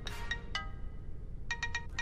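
A phone ringtone chirps in short repeated bursts, a couple early on and then a quick run of four near the end, over a low background hum.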